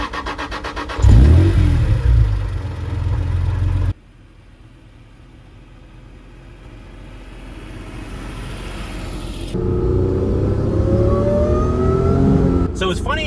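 A supercharged Acura NSX engine starts and revs loudly, then quiets before accelerating again with rising engine pitch through the gears, heard from inside the car with occasional talk.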